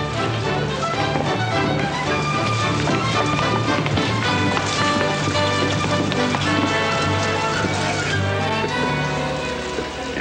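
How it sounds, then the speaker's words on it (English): Rain falling outside during a dry spell, a dense and steady wash of patter that stays loud and even throughout, mixed with busy background music and other activity, with no clear talking. "it's raining outside."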